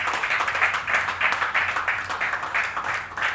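An audience applauds an athlete, a bronze medallist in the 25-metre sports pistol event, at an Asian Games felicitation ceremony. The clapping is dense and steady, swelling in rhythmic waves throughout.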